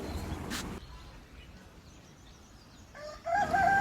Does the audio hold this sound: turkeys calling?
yes